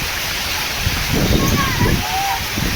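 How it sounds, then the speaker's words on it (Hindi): A waterfall-like stream of water pours and splashes during flooding near a metro. The broadband rush is constant and swells slightly in the middle. "ये है झरना।"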